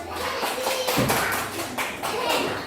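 Schoolchildren in an Indonesian classroom clap their hands in quick bursts over about three seconds, fairly close, with young voices mixed in among the claps.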